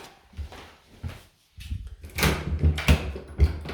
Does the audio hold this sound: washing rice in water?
no